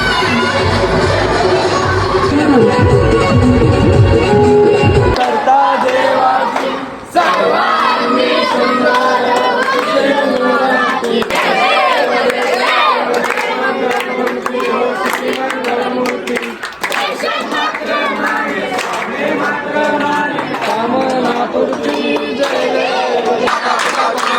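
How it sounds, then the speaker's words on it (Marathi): A large, boisterous crowd cheers and shouts continuously at a Ganpati immersion procession, with loud, dense voices, some clapping and a brief dip midway before the din resumes. "गणपती बाप्पाचं विसर्जन म्हणल्यावर जल्लोष हा एकदम जमा होत असतो"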